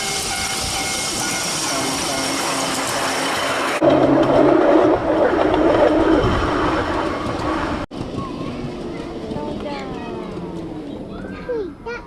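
Rolling rumble and whir of a miniature bullet train ride through a tunnel and level crossing, with voices of an adult and someone talking over the motion noise.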